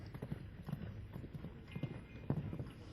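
A horse named Zorrito clip-clops in a steady rhythmic trot at a show jumping event. The hoofbeats are moderately close and sit under a commentator's voice.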